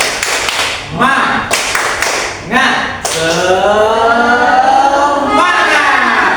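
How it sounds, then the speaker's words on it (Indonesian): A group in a teaching session claps out a rhythmic cheer: sharp bursts of clapping alternate with voices shouting together, close and loud. "Kita beri applause untuk kita semua."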